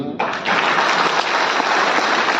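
An audience at a health awareness event breaks into clapping that starts abruptly and holds as a dense, even burst of applause, loud and close.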